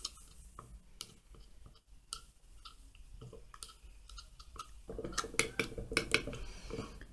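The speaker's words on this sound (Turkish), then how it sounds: "Hızlıca karıştırıyorum." Vaseline and potato starch mixture stirred quickly in a bowl, with close, irregular clinks and scrapes of a utensil against the bowl, busier and denser toward the end.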